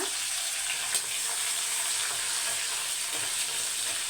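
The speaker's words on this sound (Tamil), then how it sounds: "பூண்டு வந்து நல்லா ஃப்ரை ஆகட்டும்" Crushed garlic, curry leaves and dried chillies fry in hot oil, giving a continuous, even sizzle close by with a faint clink partway through.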